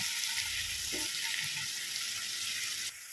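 Onion softening with a pinch of salt in a hot pan, giving a steady, soft sizzle with a faint stirring scrape partway through, no voices.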